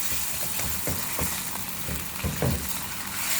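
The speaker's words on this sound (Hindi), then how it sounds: "चिकन को हम जिंजर गार्लिक पेस्ट में फ्राई करेंगे।" Chicken pieces fry in ginger garlic paste for a student biryani, giving a loud, steady sizzle with occasional stirring scrapes throughout.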